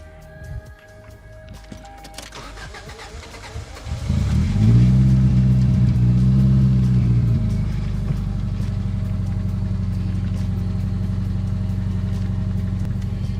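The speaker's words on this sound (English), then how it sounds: "the injectors are done, so let's see if it'll start." A car engine with newly serviced injectors cranks and catches, revving up loudly before settling into a steady, even idle without misfires.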